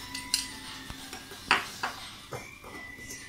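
A metal spoon stirs ammonium bicarbonate into hot milk, clinking against the side of a pot or bowl in about half a dozen sharp, bright taps spaced irregularly, close and fairly quiet.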